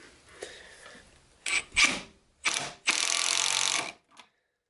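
A drill whirs in several short bursts, then runs steadily for about a second before stopping, with scraping and rubbing as it presses a brass bushing into walnut wood between bursts.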